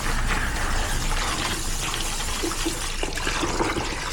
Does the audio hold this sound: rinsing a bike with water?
yes